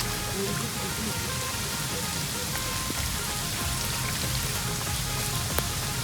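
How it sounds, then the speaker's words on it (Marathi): Heavy rain pours steadily outdoors near a creek in the Pen area of Raigad, a dense, even hiss of drops drumming on surfaces, close and continuous with no break. "हे बघ, पाऊस बघ, खूप पाऊस आलाय."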